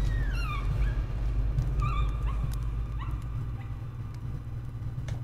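A dog in Layers of Fear gives a few high, falling whimpers and yips, then sharper short barks, close and fairly faint over a low droning background, with no talk.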